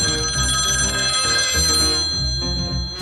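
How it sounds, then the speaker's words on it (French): A mobile phone rings with a loud, close, repeating electronic ringtone, its chiming pattern looping steadily over a low pulsing beat. "éteignez-moi ce portable!"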